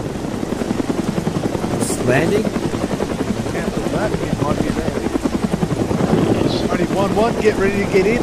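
Military helicopter setting down in the Arma 3 combat game, its loud, steady rotor chop filling the scene while radio-style voices talk over it throughout.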